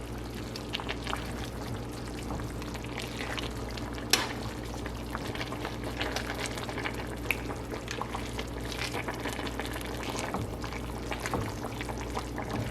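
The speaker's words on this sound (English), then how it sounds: "I'm just going to give everything a really good mix" Collard greens with turkey and hot sausages get stirred in a pot over a steady low simmering bubble, with soft liquid sloshing and occasional clinks of the spoon against the side, and no voice.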